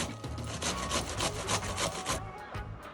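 Cabbage is rubbed by hand against a grater for sugar-free coleslaw, making a rhythmic rasping scrape in quick repeated strokes, close and fairly quiet, with no talking.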